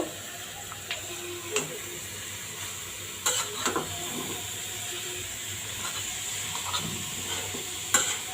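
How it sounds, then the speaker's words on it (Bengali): Carrot halwa is stirred in a pan over a soft steady sizzle and hiss, with scattered spatula scrapes and light metallic clinks, close and fairly quiet. "আমি এখন লাড়া দিয়ে দিব"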